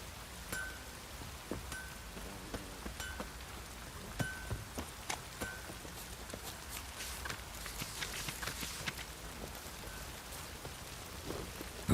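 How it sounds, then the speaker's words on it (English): Steady rainfall in The Witcher III: Wild Hunt, a soft continuous patter with scattered drops and occasional clip-clopping hoofsteps of a horse moving through the wet game world. "Looks like rain."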